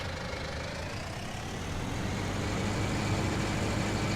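Farming Simulator 19 game tractor engine running steadily after a field harvest, a continuous low droning rumble at constant loudness with no talk.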